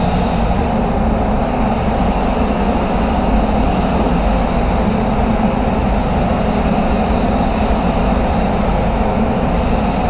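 A paint spray gun hisses continuously at 2 bar inside a spray booth, a loud, steady broadband rush of air with booth ventilation noise and no pauses or talk.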